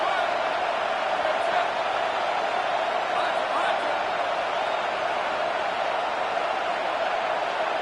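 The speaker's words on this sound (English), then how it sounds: "Decibels rising as the crowd gets behind this defense on third down." A football stadium crowd roars behind the defense on third down, a steady, dense wall of cheering and noise that stays loud and unbroken throughout.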